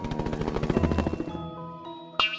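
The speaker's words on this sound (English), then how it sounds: "H is for helicopter." A cartoonish helicopter sound effect: a short burst of rapid rhythmic rotor chopping that fades out, then a brief bright chime at the end, played alone with no talking.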